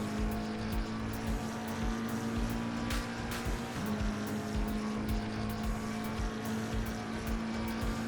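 A race car in Assetto Corsa Competizione accelerates down the longest straight at Barcelona-Catalunya, a loud sustained engine drone with a steady pitch and a brief shift-like dip midway, heard close and with no talk.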